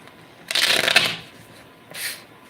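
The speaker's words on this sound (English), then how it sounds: "I'm going to keep shuffling until they tell me to stop." Tarot cards are shuffled nearby in two short bursts, a crisp riffling flutter followed by a briefer papery shuffle, with no talking.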